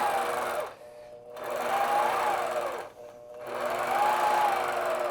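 Sewing machine quilting a piano keys design with a ruler pushed against the foot: close, steady bursts of rapid stitching with a rising and falling motor pitch, split by two short pauses.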